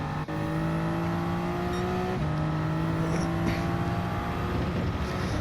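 A racing car engine in a racing video game holds a steady high drone with smooth harmonic lines, then eases slightly as the throttle is lifted around the midpoint, continuous and close throughout with no talk.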